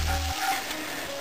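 Grated ginger and spices sizzle and crackle steadily in a hot pan, with a short low hum at the start and no voices.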